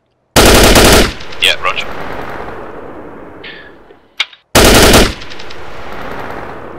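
Two loud, close bursts of rapid machine gun fire in the Arma 3 military shooter, each lasting under a second, separated by ringing echoes and a brief radio-style voice acknowledgment between them.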